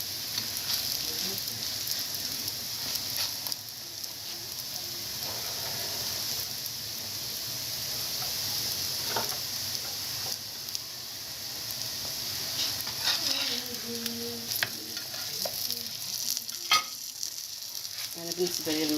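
Rziza pastry dough fries in oil in a heavy pan, giving a steady, close sizzle with scattered pops and soft stirring clicks throughout, and no voices.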